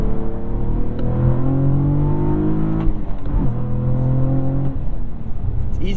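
A 2022 Cadillac CT4-V Blackwing's engine revs hard and climbs through the gears, its loud, close drone rising in pitch with each pull and dropping at every quick shift, with no talking over it.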